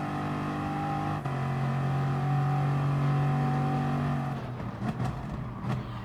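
Bugatti Veyron race car engines in the GT Sport video game at Lago Maggiore: a sustained, droning multi-car engine tone that holds steady, then shifts and roughens as the engines change pitch near the end.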